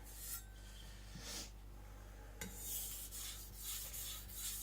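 A Chinese cleaver is drawn lightly across a whetstone in repeated strokes, each a soft, close scraping rasp, quiet and rhythmic with brief pauses between passes, no talking.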